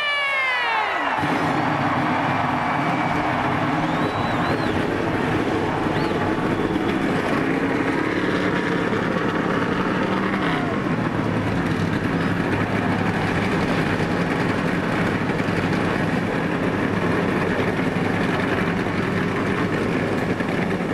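NASCAR stock cars fire their engines at Bristol before the 2005 Sharpie 500, a loud sustained roar of many V8s blending into a dense rumble that starts abruptly after a brief fading tone.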